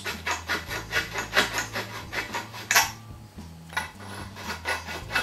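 A conical deburring tool twisted by hand inside the end of a steel pipe gives a run of rhythmic rasping scrapes, close and moderately loud, broken by a sharp metallic clack and a short pause before the scraping resumes.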